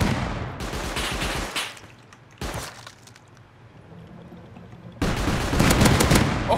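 Bradley APC cannon and machine-gun fire in the Rust video game, bursts of heavy gunfire in two loud stretches with a quieter gap between, close and harsh.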